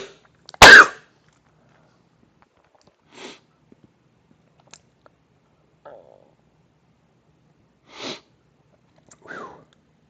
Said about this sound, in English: I got held captive by a sneeze